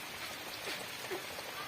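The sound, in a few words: heavy rain falling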